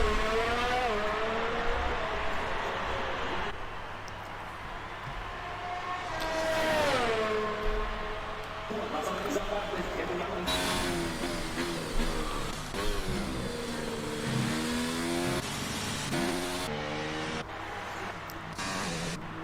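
An F1 car engine in F1 2019 whines and revs as it leaves the pit lane at the Russian GP, a loud, continuous tone rising through gear changes with other cars audible around it.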